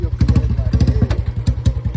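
A newly delivered, modified motorcycle idles close by, its engine giving a loud, steady, thumping pulse with rapid rhythmic beats and no talk over it.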